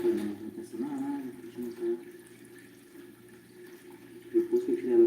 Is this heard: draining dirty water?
yes